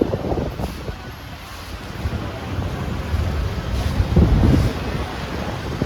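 Strong wind buffets and rumbles across the microphone in gusts, swelling louder toward the end, with a wash like surf beneath it.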